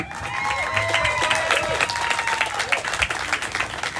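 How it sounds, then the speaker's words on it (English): Outdoor audience at a military surf festival clapping in a lively round of applause, close and fairly loud, with scattered whoops and voices over the clapping. "can we give this guy another round of applause, please?"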